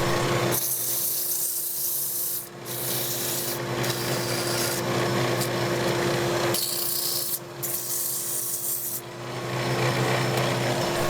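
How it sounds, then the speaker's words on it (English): Abrasive paper rubs against a turned walnut ring box spinning on a lathe, giving a continuous close, hissing scrape under a steady motor hum that pauses briefly several times. "And give it a quick sand."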